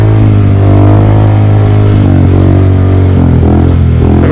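A Honda Grom motorcycle engine revs hard and loud up close in first gear during a wheelie, holding a steady buzzing drone and then wavering as the throttle changes.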